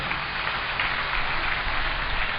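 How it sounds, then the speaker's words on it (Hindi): An audience at a Shiv Mahapuran religious gathering in Ludhiana claps together, a brief, dense patter of many hands at steady strength with no voices on top. "तालियों के साथ सम्मान करें।"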